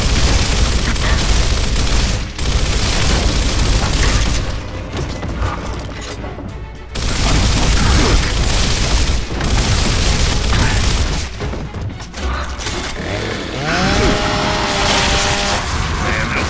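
Grenade explosions in Gears of War, with loud booming blasts and debris crashes filling the scene, a sharp drop between bursts and later a descending whine.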